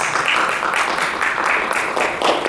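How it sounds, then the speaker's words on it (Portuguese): Audience applause at an international culture seminar in Mogi das Cruzes, moderate continuous clapping welcoming a speaker, steady and fairly close without obvious talk over it. "Estamos falando do querido Rodrigo Morales, uma salva de palmas."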